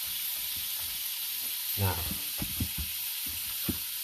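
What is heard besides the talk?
food sizzling while frying in pan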